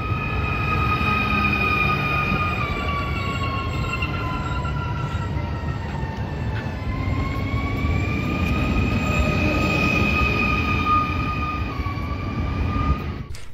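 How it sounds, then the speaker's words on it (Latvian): Train pulling into Zolitūde railway stop on the Torņakalns–Tukums line in Riga, Latvia: a steady loud rumble of wheels with long high brake squeals that slide and shift in pitch, continuous and close throughout. "Tagad vienkārši jāgaida vilciens."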